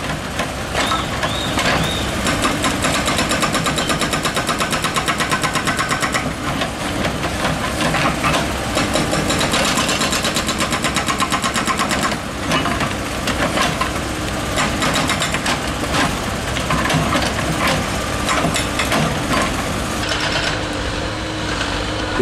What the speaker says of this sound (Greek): Βλέπουμε το τρυπάνι που σπάει την άσφαλτο.